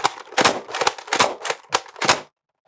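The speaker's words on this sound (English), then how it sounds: "let's slam fire a couple off" An Adventure Force Conquest Pro toy blaster slam fires, six quick sharp snapping shots with pump-action clacks in a steady rhythm, close and loud, then silence.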